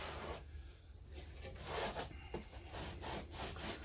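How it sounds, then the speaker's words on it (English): A rag wipes down a lubricated mower deck in quiet, repeated rubbing strokes, close by and soft, with no talking. "We'll wipe it down again."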